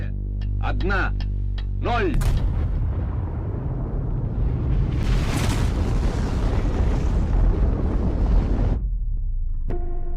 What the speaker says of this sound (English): But recently declassified secret footage of its 1961 detonation.